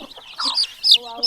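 A small chick peeps in short, high chirps while being held by hand outdoors, with bursts of bird calls at close range and faint voices in the background.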